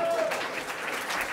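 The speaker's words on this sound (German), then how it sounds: "Ein Applaus für unseren Petrus." Audience applause at a Swiss folk music stage show, a steady wash of clapping sustained at even loudness for just over a second with no voices on top.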